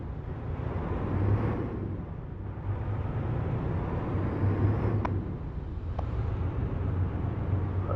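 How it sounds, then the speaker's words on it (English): Car engine drone from American Truck Simulator, a steady loud vehicle rumble building and easing as a car passes, with two brief sharp ticks near the end. "the car's coming"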